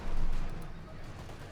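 A heavy mortar fires in Company of Heroes 2, a single deep boom at the start that decays into a rumbling tail.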